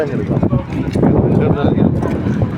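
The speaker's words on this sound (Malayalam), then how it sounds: "ഭയങ്കര കാറ്റ്, ഭയങ്കര കാറ്റില്ലേ." Strong wind roars and buffets the microphone in a dense, rumbling rush, with a voice speaking underneath the gusts.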